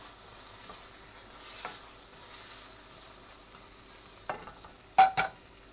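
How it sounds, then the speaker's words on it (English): Shrimp sautéing with tomatoes in a pan make a faint, low sizzle with scattered soft stirring scrapes, then a couple of sharper clanks of the utensil near the end. "Gisa-gisa lang."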